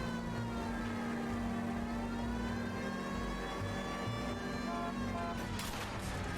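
In the video game L.A. Noire, a police car siren holds a steady, sustained wail over a low engine hum as the car speeds through traffic.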